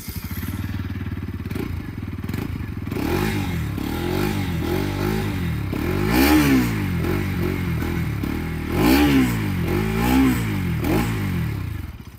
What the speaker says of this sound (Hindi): कुछ इस तरह का एग्जॉस्ट नोट मिलता है आपको इस NS200 के अंदर में।